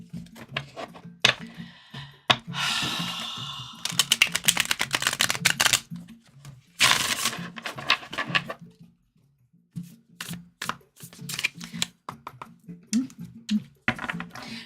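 Repeated shuffling and riffling of a thick, thin-carded deck in bursts, crisp clattering flutters, with brief pauses and a person talking in between.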